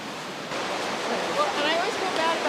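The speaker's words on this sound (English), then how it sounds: "we're starting to hear the water getting louder and louder." Musquash Stream waterfalls in the woods of Nahmakanta Public Lands give a steady, broad rushing roar. It stays moderately loud and swells slightly, with no voices over it.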